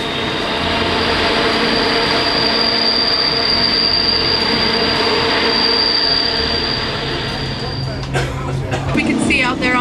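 Train rolling along the tracks in Alaska, a steady continuous rumble and rattle throughout with a sustained high squeal, people talking nearby over the noise and a louder clatter near the end.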